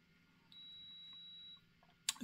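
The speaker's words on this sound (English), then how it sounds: "the dryer, UV dryer going off there, if you heard that alarm" A UV dryer's alarm gives a single steady electronic beep, holding for about a second in a quiet room, followed by a brief clatter.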